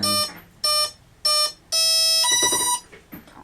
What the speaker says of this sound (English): that's the noise of the motor getting ready.